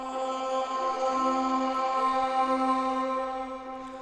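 Layered preset sounds triggered together on one pad of a Waves CR8 sampler form a sustained, harmonically rich synth tone with a shifting upper note, steady and even throughout, no voices.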